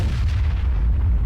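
Loud, heavy low-end tank gun blasts in World of Tanks, a dense rumbling boom that fills the short moment, with an SPG battle against a T-54 in play and no talk.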